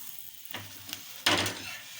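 Cauliflower paratha roasting on a hot griddle as it is pressed down, quiet sizzling that swells in two bursts, the second louder and longer, close by.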